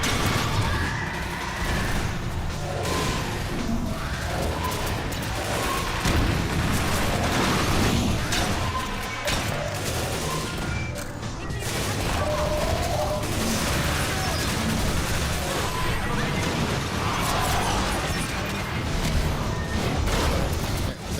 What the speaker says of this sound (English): I think the explosion is what causes the crash